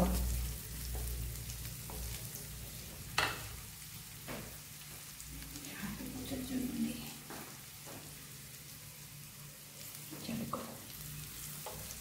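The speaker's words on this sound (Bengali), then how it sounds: "এটাকে রসুনটা ভাজা পর্যন্ত সিমে করেই ভেজে নিতে হবে।" Garlic fries gently in butter on low heat for butter garlic prawns, giving a soft, steady sizzle with a few sharp stirring knocks and scrapes close by.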